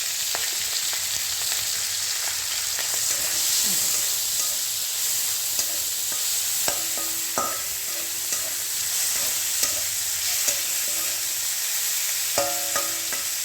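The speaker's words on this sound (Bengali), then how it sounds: "চিংড়ি মাছটা আগে আমি ভেজে নিচ্ছি একটু হালকা ভেজে" Small prawns shallow frying in oil for a Bengali begun shukto, a steady close sizzle with occasional stirring scrapes and clinks, no talk.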